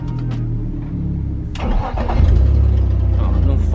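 A BMW drift car's engine cranks briefly and fires at once, then settles into a loud, close idle with a deep exhaust rumble that shows a small exhaust leak.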